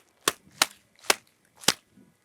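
Four sharp gunshot cracks from an AK-47 rifle sound effect, spaced irregularly about half a second apart, each a loud bright burst with a short tail, alone with no voices.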